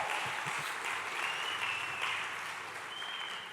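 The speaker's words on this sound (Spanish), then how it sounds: "un aplauso." A church congregation applauds during a festive service, a dense, even patter of many hands that holds steadily for a few seconds, moderately distant and slowly fading.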